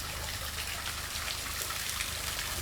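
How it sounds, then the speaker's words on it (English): Small waterfalls spill down the side of a canyon, a steady broad rush of falling water that holds evenly from start to finish under a low rumble, with no one talking. "There's little waterfalls from the side now."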